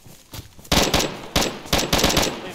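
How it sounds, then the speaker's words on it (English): Gunfire in a video game plays as several bursts of rapid automatic shots, close and loud, separated by short pauses, with no talk over it. "I'm up the hill, he's shooting from below."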